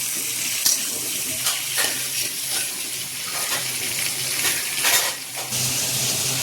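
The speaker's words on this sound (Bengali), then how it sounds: "পটলটাকে হালকা করে ভেজে নেব, খুব বেশি একটা রাখবো না, মিডিয়াম ভাজি করব।" Pointed gourd (potol) frying lightly in oil for a Bengali potol chingri dish, giving a steady broadband sizzle with occasional louder crackles and stirring scrapes, close and continuous throughout.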